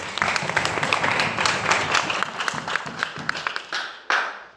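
A church congregation breaks into applause during a service, a dense burst of many hands clapping that carries on for several seconds and then trails off into a few scattered claps.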